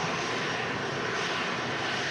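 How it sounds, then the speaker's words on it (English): Boeing 787 Dreamliner engines at Manchester Airport as the jet lines up, a steady broadband roar holding level and fairly loud throughout, with no voices. "And there it is. Series Dreamliner lining up."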